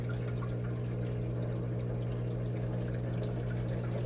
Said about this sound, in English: what that does, it drains the antifreeze from the drum